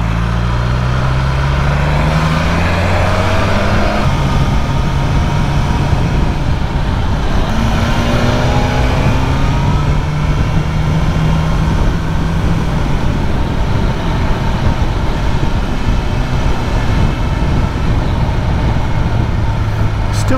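A BMW S1000R Sport motorcycle engine drones and rises through gears while riding, with steady wind roar and rising and falling pitch sweeps, with someone talking over it.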